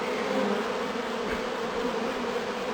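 Dense, steady buzzing of many honey bees close by as a colony is transferred from a nuc into its permanent hive, a continuous swarm drone with no voices.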